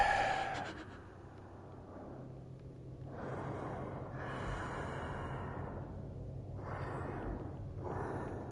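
A creature in the Call of Cthulhu video game breathes heavily in slow, snorting and rasping waves, several drawn-out breaths rising and falling at a low, quiet level with no talk.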